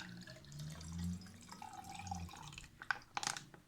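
Army mocha drink squeezed from an MRE tube gives a soft, faint liquid pour with gurgles and small drips, ending in a few light clinks and taps.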